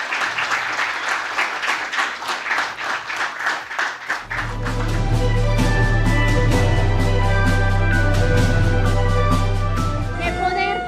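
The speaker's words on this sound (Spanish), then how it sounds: "un fuerte aplauso." An audience at a live book launch in Spanish breaks into loud, sustained applause that swells into a dense roar of clapping for several seconds before fading out.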